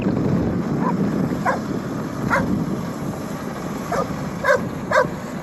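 A dog gives several short, sharp barks at irregular intervals over strong wind noise rumbling against the microphone, at a truck weigh station on the Trans-Canada Highway in Amherst, Nova Scotia.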